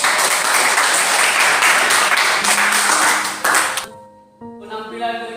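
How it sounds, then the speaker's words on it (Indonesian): A classroom audience claps loudly for a group presentation, with dense, continuous applause for nearly four seconds before it stops abruptly, followed by a few short, bright tonal pings. "beri tepuk tangan buat"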